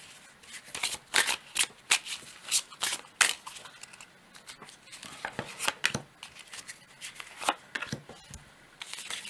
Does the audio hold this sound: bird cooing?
no